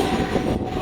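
A local train pulling into Dum Dum Junction station, a brief burst of steady loud rumble and rattle from the carriages.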